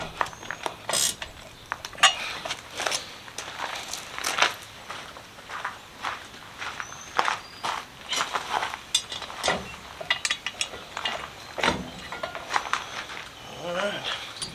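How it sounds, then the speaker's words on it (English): A hand ratchet clicks in quick, uneven bursts, tightening the bolts on a blacksmith forge's replacement firepot, mixed with metallic knocks and clinks close by. "Now we just gotta tighten these bolts and we are ready to go."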